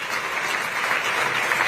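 Steady crowd applause, many hands clapping densely and continuously at a fairly loud, close level with no pauses or talk.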